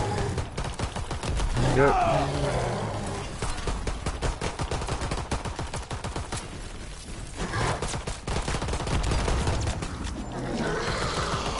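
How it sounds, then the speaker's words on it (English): Rapid gunfire from the video game The Shadowed Throne, dense repeated shots rattling almost without pause throughout, with a voice speaking briefly over them. "Keep shooting him"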